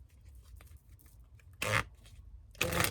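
A deck of tarot cards is shuffled in two short, close riffling bursts separated by quiet handling noises, soft and nearby with no speech.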